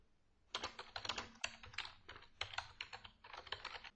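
Rapid typing on a computer keyboard, a steady run of close, crisp key clicks in short bursts with brief pauses, heard alone with no talking.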